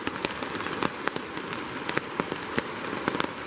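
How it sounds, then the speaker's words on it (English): Heavy rain pours down beside a river in October, a dense steady hiss of drops pattering on a surface close by, with sharper individual drips standing out throughout and no voices. "As you can hear, it's pouring down rain."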